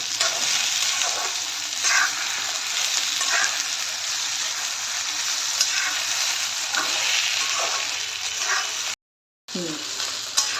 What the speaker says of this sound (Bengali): চালটা আমার মোটামুটি ভাজা হয়ে গেছে, খুব বেশি ভাজার দরকার নেই